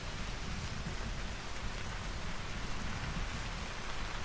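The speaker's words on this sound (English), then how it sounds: "It really do be raining." Steady rain pours in the Vintage Story video game, a dense and unbroken hiss of drops that stays at an even volume throughout, with no voices.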